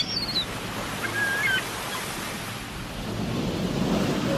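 Sea waves roll in a steady, broad wash of surf that swells slightly louder toward the end, with wind noise and a few faint distant bird calls on top.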